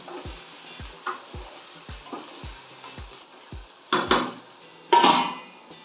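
A spoon scrapes and knocks against a cooking pot while chicken biryani is stirred, giving a regular series of sharp metallic taps about once a second, ending in two louder scraping clatters.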